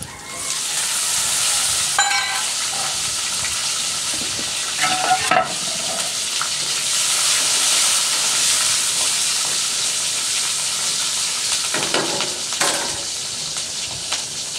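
Cumin seeds and chopped green chillies fry loudly in a pan with panch phoron spices, a sustained close sizzle and hiss broken by a few stirring scrapes.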